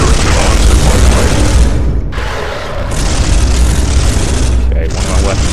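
Bolter fire in the Space Hulk video game, a dense, continuous roar of booming shots with brief dips in intensity, loud and close throughout.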